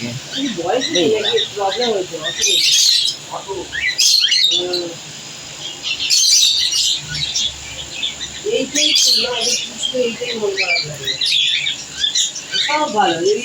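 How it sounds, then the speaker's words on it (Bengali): Small birds chirp and tweet in repeated bright bursts, fairly close, with busy overlapping calls and some background murmur throughout. "এই ছোট পাখিগুলো"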